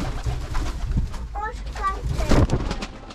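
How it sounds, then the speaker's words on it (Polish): A pigeon coos softly in a few short throaty notes nearby, with low rumbling handling noise and a voice in the background. "Gołąb, to nic."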